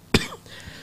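A single short, sharp cough close to the microphone, followed by quiet room tone.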